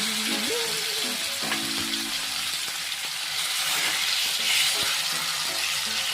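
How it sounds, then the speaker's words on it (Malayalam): Tuna pieces coated in masala paste fry in a pan with a loud, steady, close-up sizzle that never lets up, with occasional faint utensil clicks mixed in. "നമ്മൾക്കിനി കേര കഷ്ണം വറുക്കാൻ വയ്ക്കാം."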